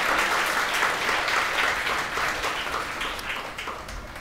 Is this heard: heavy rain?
no